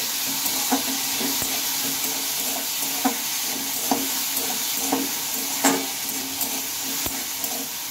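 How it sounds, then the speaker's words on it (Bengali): Cabbage stems with salt and turmeric stirred in a hot pan, a continuous close sizzle broken by regular scraping strokes of the spatula about once a second, with no voices. "এখন এটা আমি ভালোভাবে একটু নেড়ে চেড়ে নেব"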